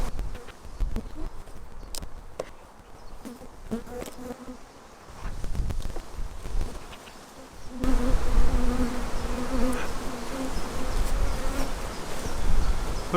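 Honey bees buzzing in a cell builder colony as it is opened in a queen rearing apiary, a dense droning hum with handling knocks and thuds, growing noticeably louder and fuller partway through.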